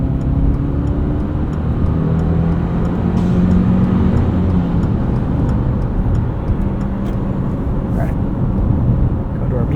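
A 2025 Subaru Forester Sport pulls out to pass a semi-truck on the road, the steady engine drone and broadband road and wind noise rising and holding loud throughout.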